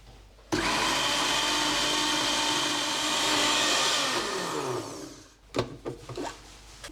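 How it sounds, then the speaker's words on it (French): Blender running at full speed for about four seconds, mixing a paste containing toasted sesame oil, then winding down and stopping, with a few knocks and clatters after. "Je le ferme et je vais mixer tout ça."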